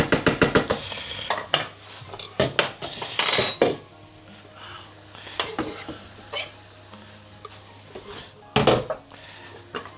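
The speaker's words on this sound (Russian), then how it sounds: "Итак, здесь на сковородке у нас все хорошо жарится." Garlic going into chicken frying in a skillet with leeks, heard as sharp clinks and scrapes of a utensil against the pan over a low sizzle, with short pauses between bursts of stirring.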